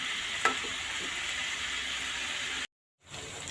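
Snake gourd bhaji fries in a pan, a soft steady sizzle with a few light scrapes of stirring. The sound cuts out briefly near the end, then resumes.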